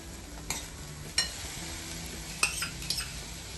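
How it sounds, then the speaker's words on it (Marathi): Onion sautéed in a pan with no oil, a soft steady dry sizzle broken by a few clinks and scrapes of a utensil against the pan, fairly quiet and without voices. "कांदा आपला तुम्ही बघू शकताय कांदा छान परतला गेलाय"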